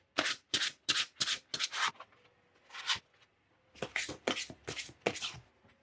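Oracle cards shuffled for a tarot reading: a run of crisp riffling bursts in quick rhythm, a brief pause with one burst, then another fast series, close and clear with no talk.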